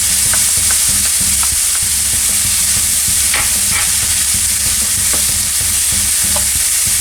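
Red pepper and other vegetables for pasta sizzle steadily in a hot pan, with a constant dense frying hiss and occasional light stirring clicks.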